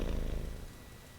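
A cat purring while being petted in the video game Marvel's Midnight Suns, a steady rumbling purr heard up close and alone, fading slightly toward the end.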